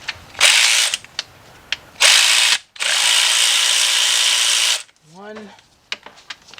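Power tool spinning out the two 10mm alternator bolts on a Ford engine, loud close whirring bursts with a long sustained run, then a brief spoken word and light tool clicks.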